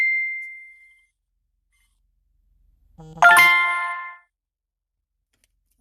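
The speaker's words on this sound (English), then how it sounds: "My phone is always blowing up." Phone notification dings: a single clear chime fades out at the start, then after a short silence a brighter, richer ding rings out and decays, with a brief spoken word just before it.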